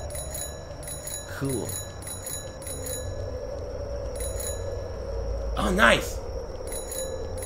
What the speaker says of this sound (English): I like that bell sound.